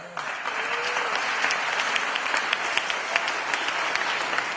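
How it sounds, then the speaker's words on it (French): A church service congregation applauds God in a dense, loud burst of clapping with some cheering voices, sustained evenly for several seconds. "Come on, on applaudit Dieu!"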